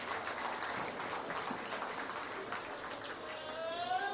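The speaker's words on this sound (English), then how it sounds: "Let's give them all a big round of applause." Audience claps steadily at a goat show ring at the 83rd Preston County Buckwheat Festival, a dense, even patter of many hands heard from a distance, fairly faint, lasting the whole moment without voices.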